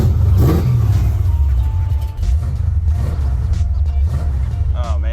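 A 1970s AMC Javelin muscle car with exhaust and mufflers dumping out before the axle, its engine rumbling and revving steadily at close range for several seconds, with a voice briefly audible near the end.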